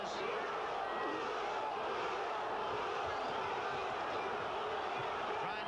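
A partisan boxing crowd roars for Daniel Zaragoza in his WBC super bantamweight title fight against Hector Acero Sanchez, a dense, steady wall of cheering that never lets up, with voices blended into the din.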